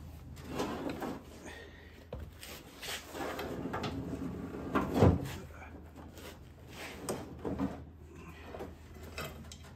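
A big, heavy tractor radio is slid forward across its mount, making scraping, rubbing and knocking sounds in uneven bursts, with one louder thump near the middle. No one speaks.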